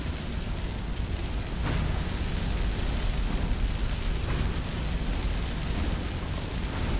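A fire trap in Skyrim firing nonstop, a dense roaring whoosh of flame that holds steady and loud throughout with no pauses.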